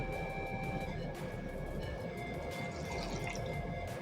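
Water trickles and drips steadily through a homemade goldfish aquarium filter, a continuous close splashing and running wash with no talking.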